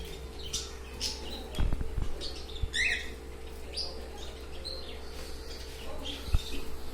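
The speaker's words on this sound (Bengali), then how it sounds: "এই নতুন পাখি আনলাম আজ" A newly brought pet bird chirping indoors, scattered short tweets and one brighter trill, fairly faint over a low steady hum with a few soft knocks.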